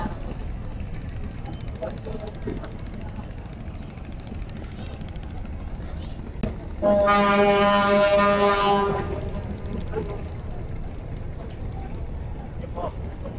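A passenger launch leaving Dhaka for Barishal sounds a loud, deep horn blast of about two seconds over a steady rumble of engine, wind and water, with voices faint in the background.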